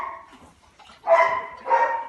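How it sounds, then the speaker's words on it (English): A dog barks in a kennel at feeding time: two loud, close barks about half a second apart, after a quieter whine or yip at the start, with no talking. "You can hear a dog barking in the background."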